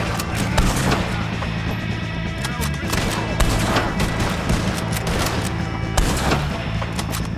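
Rapid bursts of gunfire in the Western video game Red Dead Redemption 2, dense volleys of shots cracking repeatedly through a loud, continuous firefight with overlapping reports and a rumbling background.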